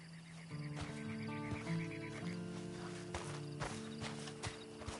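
Horse in the Red Dead Redemption 2 video game, a run of clear, rhythmic hoof clip-clops with a short neigh near the start, moderately close and alone, without speech.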